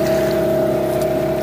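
A new Parsun T15BMS 15 hp outboard boat motor runs during break-in at about 1900 rpm, giving a steady, close, continuous drone with a strong tonal hum that holds evenly throughout.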